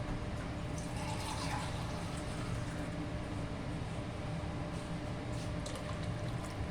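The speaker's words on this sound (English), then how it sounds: "I am going to add another half cup of water." Water pours steadily into a cooking pot while making rasam, a continuous close hiss and splash of liquid with no talking.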